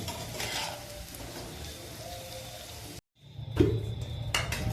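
Paneer fries in a pan for a dhaba-style paneer butter masala, a steady close sizzle and crackle that cuts out briefly and then comes back with a clink of utensils against the pan.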